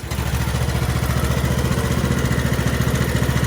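The engine of a Craftsman LT2000 riding lawn mower runs close by at a steady idle, a loud, even, rapidly pulsing chug throughout.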